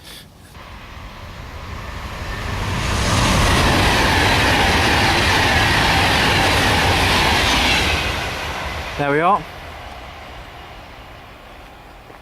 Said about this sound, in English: Another one of my favourite spots to view the trains come by.